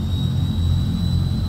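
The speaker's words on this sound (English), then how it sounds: "And just waiting here for the left engine to stabilise." A Transall C160 turboprop engine in a flight simulator spins up during start, giving a loud, steady low roar with a thin high whine on top that holds constant and close throughout.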